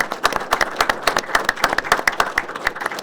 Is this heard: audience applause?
yes